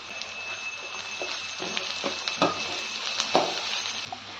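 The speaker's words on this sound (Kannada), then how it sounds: "ಸೊ ಚೆನ್ನಾಗಿ ಫ್ರೈ ಆಗ್ತಾ ಇದೆ." Capsicum and onion fry in a pan for capsicum chitranna, a steady close sizzle with scattered clicks and taps of a spoon stirring against the pan.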